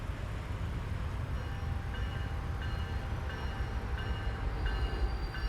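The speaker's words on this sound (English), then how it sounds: "the train has slowed down for us" A train passes a truck at a crossing in American Truck Simulator, giving a steady, loud rolling rumble with faint tonal ringing above it for several seconds and no voices.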